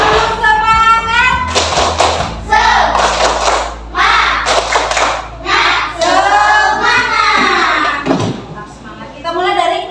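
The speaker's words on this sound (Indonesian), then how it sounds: "kita berikan tepuk semangat dulu ya, sama-sama ya. Tepuk semangat" A classroom group of students and teacher performs a rhythmic clapping cheer, bursts of claps in patterned sets mixed with loud chanting voices, close and lively throughout.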